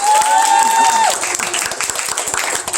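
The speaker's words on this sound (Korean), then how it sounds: "자, 박수 한번 주세요." At a farewell party, a sustained voice or tone sounds at the start, then a round of close, uneven clapping from the guests follows.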